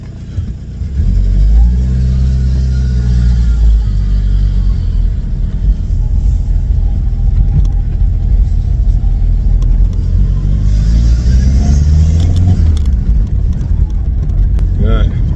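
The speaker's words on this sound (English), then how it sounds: "Okay, let's go for a proper test drive." A VW Passat B3 with a PD150 engine on a test drive: steady, loud engine rumble throughout with rising revs as it accelerates, a few mid-clip shifts, and engine drone dominating close by.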